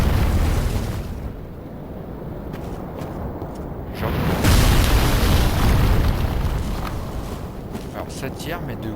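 Projectiles rain down from the sky in the Dark Souls 3 video game, with loud rumbling booms and bursts layered over a dense, continuous noisy battle backdrop, and someone talking throughout.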